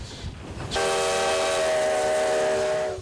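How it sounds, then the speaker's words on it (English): The whistle of steam locomotive number 93, built in 1909 and coal-fired, blows one long, loud, steady blast with rich harmonics in Ely, Nevada, fading out after a few seconds. "engine number 93 rolls through the Nevada sagebrush. Powered by coal fire and steam"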